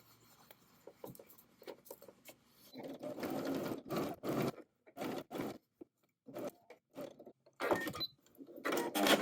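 Sewing machine understitching the seam allowance onto an uninterfaced undercollar, heard as faint short bursts of whirring stitches stopping and starting in an uneven rhythm, close and quiet with no voices.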